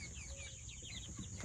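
Older hens, including Cochins and Rhode Island Reds, clucking softly inside a backyard coop, with brief warbling calls over a faint, steady background murmur.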